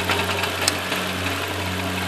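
A Nissan VQ35 engine idles roughly with a misfire, a steady close-up mechanical hum with low harmonic drone and irregular knocking ticks throughout, no talk.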